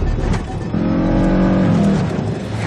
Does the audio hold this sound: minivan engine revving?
yes